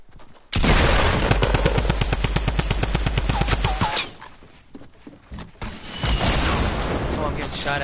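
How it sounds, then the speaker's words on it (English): Rapid automatic gunfire bursts out in a battle royale video game: a loud, evenly spaced stream of shots that runs for about three seconds, followed by scattered single cracks and more firing, with voices talking underneath. "I'm getting shot at from the other side"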